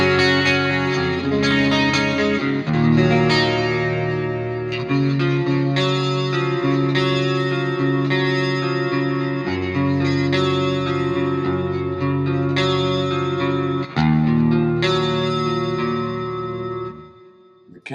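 Electric guitar played through a Plexi-style amp simulator with a Britone BKS cabinet, 57 and ribbon mics, plus delay and reverb: distorted chords and riffs ring out continuously with echoing tails, no talking.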